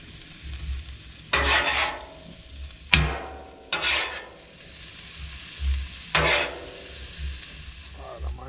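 Garlic and vegetables fry on a Blackstone griddle, a soft bed of sizzle broken by several sharp scraping and clanking spatula strokes against the metal surface, spaced irregularly and close.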